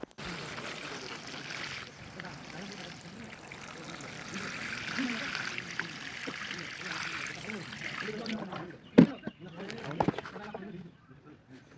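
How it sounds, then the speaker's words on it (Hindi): Water poured from a container into potted monstera cuttings, a steady splashing trickle running for several seconds at close range before tapering into a few brief knocks and drips, with faint bird calls in the background. "अब देते हैं इन प्लांटों में पानी।"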